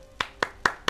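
Four crisp hand claps in quick, even succession, close and isolated against a quiet background.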